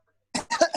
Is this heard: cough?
yes